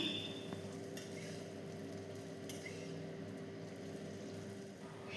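Chhana kofta balls fry gently in hot oil over reduced heat, a steady soft sizzle with faint clinks of a utensil turning them, quiet and close, no talk.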